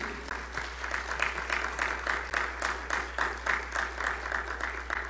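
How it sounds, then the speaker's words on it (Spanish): A church congregation claps in welcome for online viewers during a sermon, a moderate, fairly soft wash of applause in a steady rhythmic pattern over a low electrical hum. "Mandémosle un aplauso a ellos como bienvenida."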